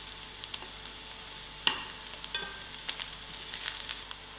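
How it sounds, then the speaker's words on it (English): Curry leaves and chillies fry in hot oil in a pan with a soft, steady sizzle and scattered light pops and crackles, heard close with no talking. "And my curry leaf. Let it fry together. And then my chilies."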